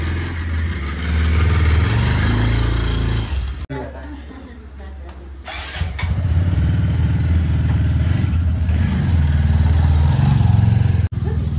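Motorcycles are wheeled out and started on a trip from Darjeeling toward Kolkata, with steady engine idling and revving close by amid clatter, a brief cut near the start, and people talking over the noise.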